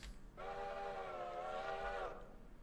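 A New York Central five-chime train whistle sounds one sustained, harmonious chord blast of about a second and a half, rising in clearly over a low rumbling background and then stopping.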